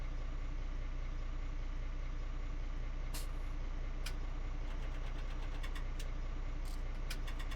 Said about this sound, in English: Definitely a different engine sound,